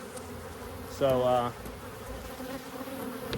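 Honey bees buzz around an open, booming hive, a low steady hum with one brief louder buzz passing close; someone says a single word.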